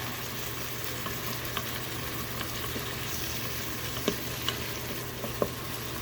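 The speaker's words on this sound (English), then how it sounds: "this bacon's going to cook no matter how you look at it" Bacon frying in a pot gives a steady, dense sizzle with faint crackles and a few sharper pops, close and continuous, with no voices.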